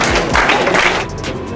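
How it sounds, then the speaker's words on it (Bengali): An audience applauds at a business gathering, a short loud burst of clapping that fades out after about a second. "এনাদের প্রত্যেকের জন্য একবার জোরদার হাততালি হওয়া উচিত।"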